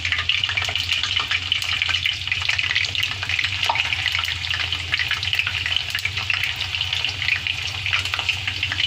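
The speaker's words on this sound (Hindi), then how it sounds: "अब हम इसको अच्छे से फ्राई होने देंगे।" Gola kebabs fry in hot oil in a pan, giving a steady, bright, close crackling sizzle that runs evenly throughout with no pause or talk.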